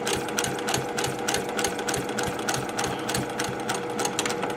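A sewing machine runs fast and close, stitching a quilt-as-you-go block with a continuous rapid rhythmic chatter throughout and no talk.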